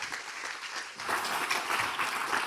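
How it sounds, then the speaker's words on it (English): A conference audience applauds a speaker, the clapping modest at first and then swelling fuller and denser after about a second, sustained without talk. "Please give him a warm round of applause."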